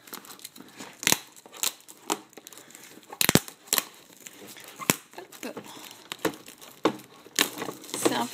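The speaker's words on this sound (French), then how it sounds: "on va essayer de déballer ça tout de suite, avec le petit plastique" Crinkly plastic wrap being torn and peeled off a Pokémon Xerneas EX XY collection box, close and irregular with sharp crackles and rips, no talking over it.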